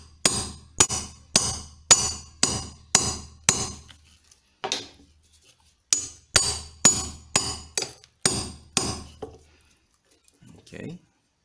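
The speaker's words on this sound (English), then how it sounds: "just hammer it." Sharp metallic hammer blows drive a radiator upper mount bushing on a Mitsubishi L200, landing in two quick rhythmic bursts of about seven strikes each, with a pause between and brief faint sounds after.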